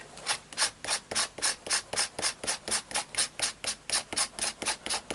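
Colored pencil being lifted from drafting film, a rhythmic, close scratching rub repeated about three to four times per second in even strokes, soft and alone without talk.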